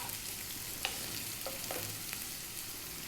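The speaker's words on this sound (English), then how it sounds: "then in goes the onion. On a nice high heat." Onion hitting a hot pan on high heat while cooking soy sauce chicken, a soft but constant sizzle with a few light stirring clicks.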